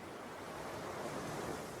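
Gentle waves of a calm sea wash in a steady, soft hiss of surf with light wind, distant and continuous with no distinct breaks.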